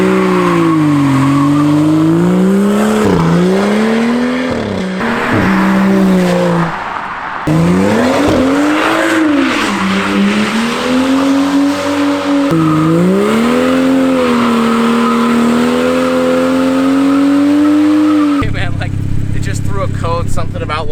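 A tuned BMW running on E85 fuel accelerates hard, its engine note sweeping up and down through repeated gear pulls while the tires squeal, loud and close throughout, ending in a harsher burst.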